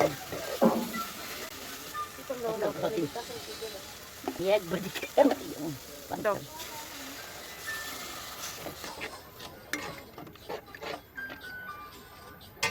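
Onion, ginger-garlic paste, turmeric, chili, salt, coriander and cumin powder fry in a pan, a low sizzle under repeated scraping stirs and occasional clinks, with faint background voices and a soft tonal jingle in the middle.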